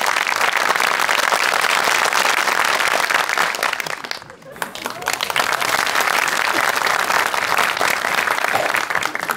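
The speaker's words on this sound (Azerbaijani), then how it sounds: "Alqışlarınızla biz başlayaq." A studio audience at a comedy show claps loudly and steadily, with a brief dip midway before the applause swells again.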